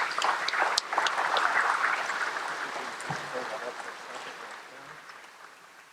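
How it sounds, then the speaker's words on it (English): Audience applause for an inductee at a Living Legends honors ceremony, a full crowd clapping loudly at first, then gradually tapering off with some voices mixed in. "Let's give him a round of applause."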